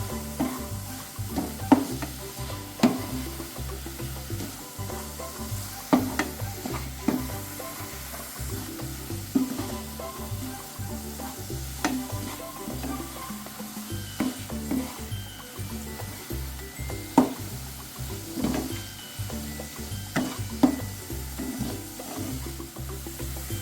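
Modak filling is stirred in a pan, with repeated spoon scrapes and soft thuds at a regular pace over a low sizzle and no one speaking.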